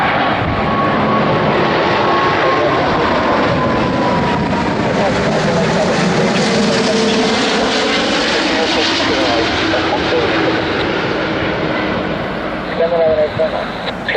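A Virgin Atlantic Airbus A340-600 airliner lands on runway 27 right, its engines giving a loud, steady broadband roar for the whole stretch while a radio voice talks in the background.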